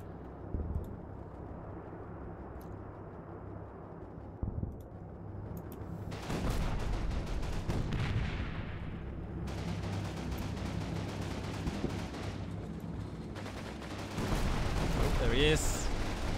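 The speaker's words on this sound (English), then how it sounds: "I'm sure there's somebody here shooting at us." Gunfire in the WWII video game Combat Mission: Final Blitzkrieg, Battle for Chaumont: a continuous battle din of rattling shots and bursts that swells loud partway through, with a few sharper reports, and someone talking over it at times.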